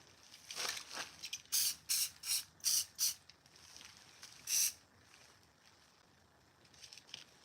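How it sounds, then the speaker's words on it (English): A series of short, sharp aerosol sprays of sealant from a spray can, about five quick bursts in a row then one more after a pause, close by with faint background noise. "I think I'm gonna come in and spray seal this on"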